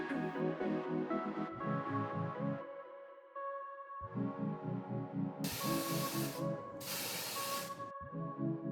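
Bursts of hissing spray from an airbrush being sprayed clean between colors, close and steady, coming in several runs with brief breaks and a mechanical hum underneath.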